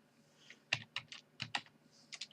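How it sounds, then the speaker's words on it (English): Keys on a computer keyboard are typed while entering a password on a Linux server, a quiet, close burst of about a dozen irregular clicks with short pauses and no voices. "So press enter here, and you need to type the password,"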